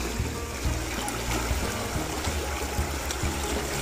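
Water of a clean river flowing steadily as someone bathes in it, a close, continuous rushing trickle with light splashing and no speech.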